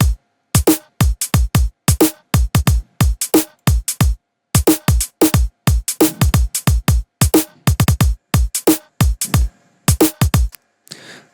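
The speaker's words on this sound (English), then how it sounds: "I've got a drum group that consists of a kick," An electronic drum group of kick, two snares and hi-hat plays a steady, fast looping pattern of sharp, punchy hits, loud and dry, with brief pauses between phrases and nothing else heard.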